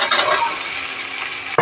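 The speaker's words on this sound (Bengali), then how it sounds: "এবারে ঝিঙেগুলো দিয়ে দেবো।" Sliced ridge gourd goes into a hot pan of cumin, ginger and mustard paste, giving a loud wet sizzle and the scrape of stirring, with a sharp clatter at the end.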